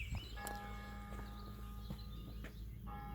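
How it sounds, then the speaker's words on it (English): Church bells ring out at midday across an outdoor setting, a sustained metallic peal of clear repeated strikes with lingering hum, moderately distant, with birds chirping faintly alongside. "There's the bells."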